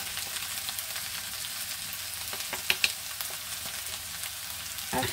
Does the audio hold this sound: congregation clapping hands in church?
no